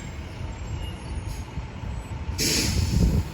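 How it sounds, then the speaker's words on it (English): A city bus pulls in nearby and its air brakes let out a loud hissing release near the end, over a steady engine rumble; nobody speaks. "Oh, bus coming in."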